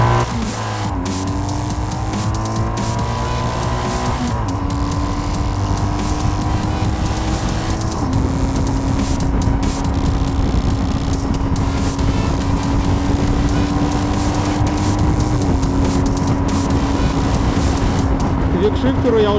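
A BMW R 1250 GS Adventure motorcycle on the move gives a loud, continuous engine drone that rises and shifts pitch through the gears, with heavy wind rush and a rider talking over it.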